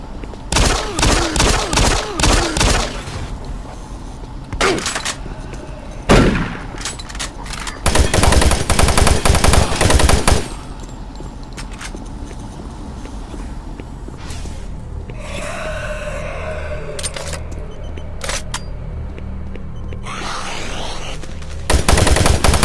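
Machine gun fire in the video game Doom 3, heard as loud rapid bursts in the opening seconds and again around eight to ten seconds, with heavy breathing and snorting sounds between, no talking.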